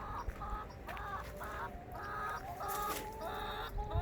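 Backyard chickens cluck in short repeated bursts, moderately near and fairly quiet, with soft background ambience and no talking.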